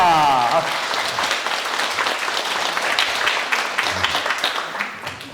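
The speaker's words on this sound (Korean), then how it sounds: "이분께 큰 박수 부탁드립니다." Sustained applause from an audience, dense and steady clapping that fades slightly toward the end, with a voice briefly heard at the start.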